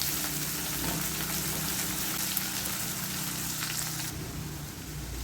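Curry leaves, ginger and onion fry in hot oil as they are stirred while making moru curry without coconut, giving a steady close sizzle with faint scraping, and no voices.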